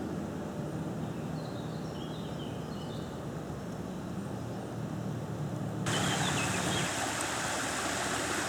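A small waterfall on a mountain trail at Mont Dore gives a steady rushing wash of falling water that grows slightly louder and brighter partway through, heard outdoors close by with no talk.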